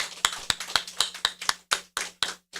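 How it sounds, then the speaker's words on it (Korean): A church congregation clapping in unison during a Sunday service, evenly spaced loud claps at a brisk steady rhythm that slows slightly and stops. "우리 살아계신 하나님께 박수로 찬양 드립니다."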